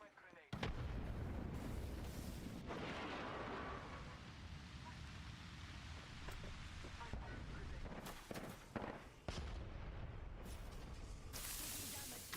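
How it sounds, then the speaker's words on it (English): Thermite grenade thrown in the video game Apex Legends, a loud, dense burst of fiery crackling and explosive rumble that carries on steadily for several seconds amid other gunfire-like pops. "Throwing thermite grenade."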